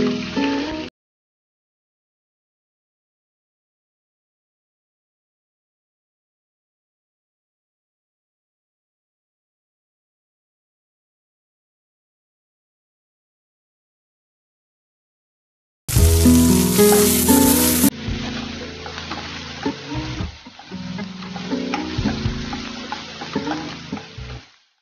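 Chopped onions hitting hot oil with whole garam masala spices (cinnamon stick, cloves, cardamom) for tomato rice, a loud burst of sizzling and crackling that settles into steady frying after a long silent stretch.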